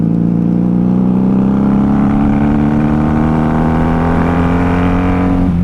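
A 1994 Honda Magna VF750C motorcycle accelerates hard, its engine note loud and close, rising steadily in pitch in one continuous pull with no talking.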